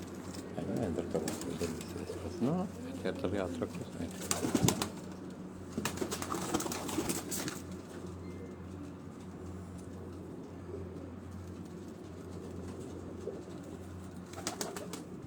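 Sialkoti pigeons coo on a rooftop in Rawat, low repeated calls rising and falling across the span, with someone speaking briefly and a steady background hum underneath.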